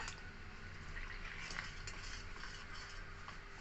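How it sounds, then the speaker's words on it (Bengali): Gram flour batter for khaman dhokla stirred with small additions of water, giving soft wet squishing and ticking sounds, faint and close, repeating unevenly over a few seconds. "অল্প অল্প জল দিয়ে আমি একটা ব্যাটার তৈরি করে নেবো"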